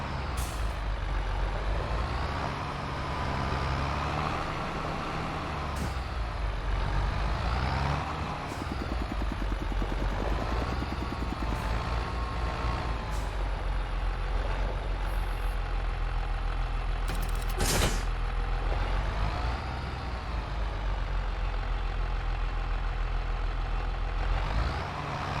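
Truck parking a trailer at the farm in Farming Simulator 25, with an engine idling and rumbling steadily throughout and repeated sharp hisses of the air brakes, including a strong burst near the end.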